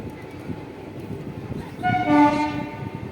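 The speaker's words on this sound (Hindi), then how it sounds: "तो दून एक्सप्रेस अब पहुंच रही है अयोध्या कैंट।" Doon Express arriving at Ayodhya Cantt station on the Barabanki–Ayodhya line, with steady rail rumble building into a loud, sustained tonal train horn near the end, heard alone.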